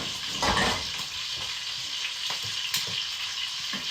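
Sweet potatoes fry in a pan for a steak and vanilla sweet mash dish, giving a steady close sizzle with a few brief stirring scrapes and crackles throughout.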